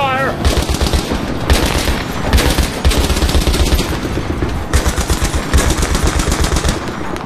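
Loud, close machine-gun fire in the Battlefield 3 video game, rapid continuous bursts with short breaks and dense overlapping shots.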